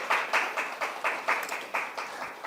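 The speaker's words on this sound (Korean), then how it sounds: "다시 한번 큰 박수 부탁드리겠습니다" Applause from a small audience at a business pitch event, quick steady claps that continue evenly for a couple of seconds.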